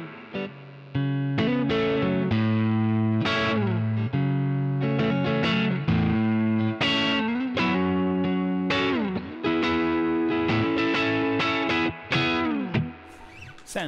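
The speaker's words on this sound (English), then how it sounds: "Sounds like a kind of plexi with a lot of verb on there to me" Electric guitar played through a Koch Studiotone 20 amp head with plenty of reverb, a plexi-like tone of ringing chords and bent notes in a loud, continuous phrase, with brief pauses between strums.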